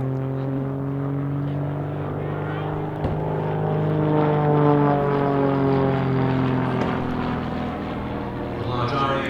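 An RAF Tutor light propeller plane flying an aerobatic stall turn at an airshow, its engine a steady, loud droning hum whose pitch slowly rises and falls as power and attitude change throughout.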